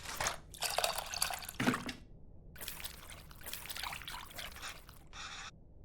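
Tamarind stirred into water in a bowl in Venba gives soft wet splashing and dripping in short bursts separated by brief silences, close and faint.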